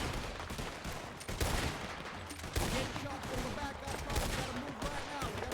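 Video game gunfire crackles continuously in a dense battle, overlapping rifle bursts and sharp shots, some near and loud, others scattered farther off, with voices talking over the shooting.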